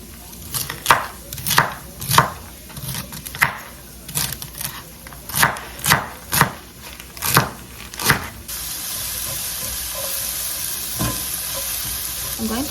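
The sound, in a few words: chopping chard and kale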